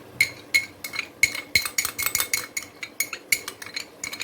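A metal spoon clinks sharply and rhythmically against a pot as yogurt is stirred into meat for malai boti palak gosht, roughly a dozen close, bright strikes with no talk.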